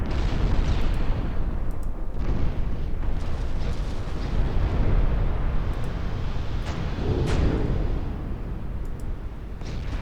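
Heavy naval gunfire in Ultimate Admiral: Dreadnoughts, a steady roar of deep booms and rumbling blasts with several sharper bursts rising out of continuous battle noise.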